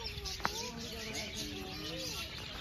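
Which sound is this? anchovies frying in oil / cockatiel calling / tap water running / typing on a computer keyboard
cockatiel calling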